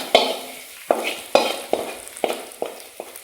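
Golden ghee-fried onions tipped into rice and chickpeas and stirred in a small pan, giving about seven sharp scraping stirs at a steady rhythm over a faint sizzle, close and fairly loud.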